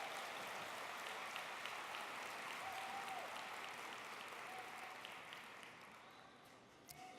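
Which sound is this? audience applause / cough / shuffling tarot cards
audience applause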